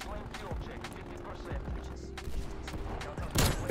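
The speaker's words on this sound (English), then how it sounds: "Cause they got a sentry gun." A sentry gun in an online multiplayer shooter fires steady rapid bursts under a busy mix of game noise, with a sharp louder blast near the end.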